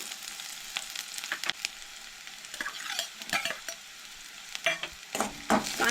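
Onion frying in oil for an egg curry tempering: a steady crackling sizzle with intermittent scraping stirs, moderately loud and close, no voices.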